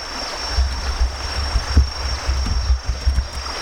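Small stream flowing beside a hot spring in Phang Nga, Thailand, a steady low rushing of water with soft burbling, fairly close and continuous, with no voices.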